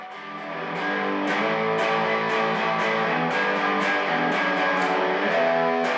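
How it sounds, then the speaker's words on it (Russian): An electric guitar played through a tube pedal gives a warm, rounded, overdriven tone, with repeated strummed chords striking in a steady rhythm and ringing on alone. "ламповые педали позволяют добиться более теплого, округлого тона гитары"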